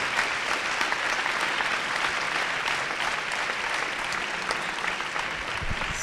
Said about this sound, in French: Vous pouvez les applaudir encore une fois, ils ont été super.